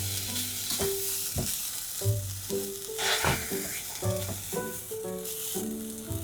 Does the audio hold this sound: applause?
no